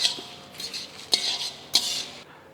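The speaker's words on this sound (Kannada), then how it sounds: "ಇದನ್ನು ಚೆನ್ನಾಗಿ ಈ ಥರ ಮಿಕ್ಸ್ ಮಾಡ್ಕೊಳ್ಳೋಣ." Grated coconut is stirred into hot lentils in a pan for karipudi rice, with a spoon giving a few distinct metallic scrapes and clinks against the vessel, close and fairly quiet.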